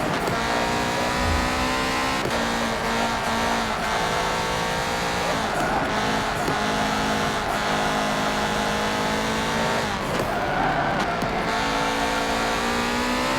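A Porsche race car in Forza Motorsport 7 drones steadily with a harmonic engine note, rising and dipping through gear changes, with occasional tire squeal and no talk.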